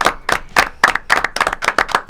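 A small group claps in a brief burst of distinct, uneven handclaps, loud and close, welcoming guests in a Spanish-language television studio.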